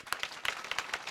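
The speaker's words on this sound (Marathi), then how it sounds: "टाळ्यांचा आवाज आला नाही तुमचा. जोरात वाजवा जोरात." A kirtan audience claps in quick, fairly even rhythm, a short burst of sharp hand claps from a group at moderate distance.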